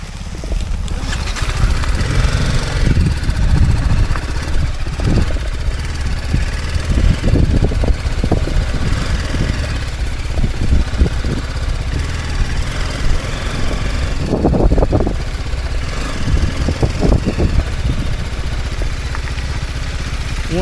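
A two-wheeler engine idles steadily nearby at a rain-hit tourist spot in Gokarna, a continuous low rumble with small clattering bursts running throughout.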